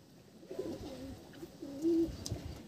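Desi pigeons coo softly inside a loft: faint, low, murmuring coos through the quiet, with one slightly stronger coo rising near the end.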